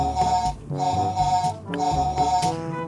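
A toy log-carrier truck's yellow button plays an electronic tune meant as a car horn, with loud repeating melodic phrases and short pauses, close and continuous, with no talking.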